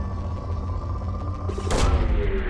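Probe launch in Mass Effect 2: a low, steady ship hum, then a single sharp whooshing burst with a deep thump partway through, followed by a fuller rumble.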